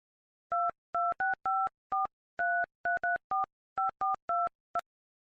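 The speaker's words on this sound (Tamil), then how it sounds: "ஒரு தடவை கூட ஃபோன் பண்ணி பாப்போம்." A telephone dials a number: about a dozen short, crisp keypad tones in quick uneven succession, clean and alone against silence.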